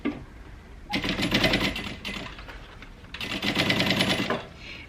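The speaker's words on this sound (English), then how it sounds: "So I'm going to sew across the bottom here at that 5/8 of an inch seam allowance." Domestic sewing machine stitching across the bottom seam of a crossbody bag, two steady rattling runs of rapid needle clatter separated by a short pause, close and clear with no talking.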